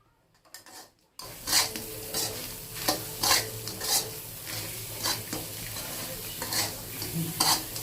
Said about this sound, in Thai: คลุกเคล้าให้เข้ากันนะคะ